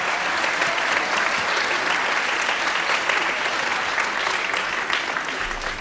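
A high school fall concert audience gives sustained applause for the parents, thick continuous clapping that stays loud throughout and tapers slightly at the end.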